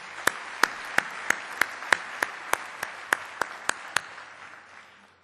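A lone person at a conference closing session claps slowly and evenly, about fifteen crisp, separate claps in a steady rhythm, fairly faint in a quiet room and fading at the end.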